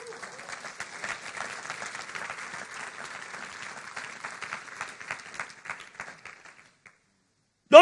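A church congregation applauds, a sustained round of many hands clapping that fades out toward the end before a brief voice cuts in.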